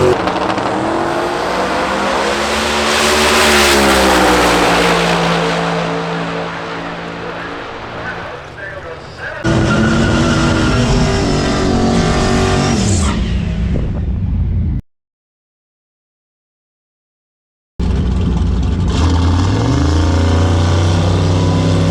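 Drag racing cars roar past at Hot Rod Drag Week, heard from a boat. Loud engine tones rise and sweep steadily, then the sound cuts out briefly before resuming with voices talking throughout.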